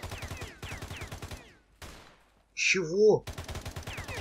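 Enemy gunfire in the video game Stalcraft, rapid automatic bursts of repeated sharp shots, loud and close, broken by brief pauses and other game sounds, with someone speaking briefly.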